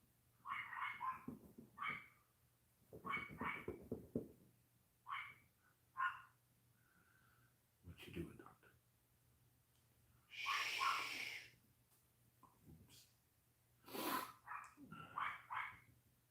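Dogs bark in scattered single and double woofs across a quiet room, fairly close but soft, with gaps of silence and a longer excited burst midway.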